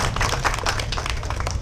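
An audience claps through a restaurant launch at a house-turned-eatery in Lembang, West Bandung, a dense, steady patter of many hands with no pause.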